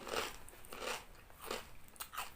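Very crispy pork rinds crunched between bites of spicy papaya salad, four close, loud crackling bites spaced about half a second apart with no talk.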